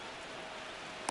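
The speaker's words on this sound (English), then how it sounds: "This rain is not letting up." Steady hiss of rain falling on a baseball field in MLB The Show, an even, continuous wash of noise with one brief click near the end.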